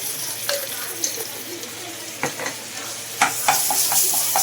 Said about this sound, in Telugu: జింజర్ గార్లిక్ పేస్ట్ ఇలాగ ఆనియన్ ఆయిల్లో కొంచెం ఫ్రై అవ్వాలి